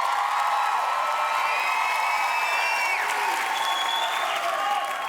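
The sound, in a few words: audience applause and clapping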